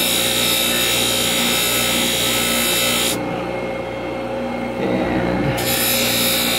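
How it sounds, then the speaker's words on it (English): A gray polishing wheel works a raw aluminum casting for fine polishing, giving a continuous close whirring grind that eases briefly in the middle before returning at full strength, with no speech. "Now, this is called a gray wheel. We use this in jewelry for fine polishing."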